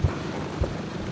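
A steady airplane engine drone serves as a sound effect in a 1940s radio comedy, a continuous low hum with a couple of soft thumps, no voices.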